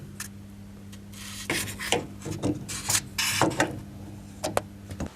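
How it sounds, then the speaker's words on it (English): An immersion heater's earth wire is loosened and removed with a small adjustable spanner, giving a few soft metallic scrapes and clicks close up, with quiet pauses between them. "using a small adjustable, remove the earth wire"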